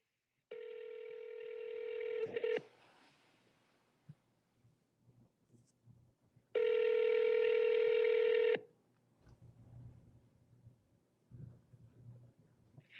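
Telephone keypad dialing tones during calls to undecided voters, two long loud tone bursts separated by quiet stretches with faint handling noises.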